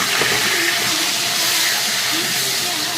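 Okra frying in hot oil, a steady broadband hiss and sizzle that holds evenly throughout, close and fairly loud, with no talking over it.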